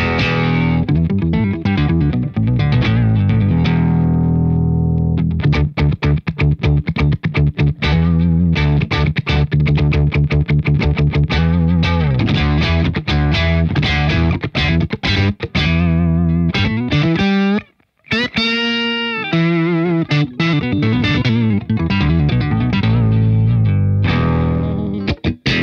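Electric guitar played through a BOSS OC-5 octave pedal set to octave one minus, with reverb and delay off, giving a thick, distorted lower doubling; continuous riffing and sustained notes with a brief gap near the end, no talking.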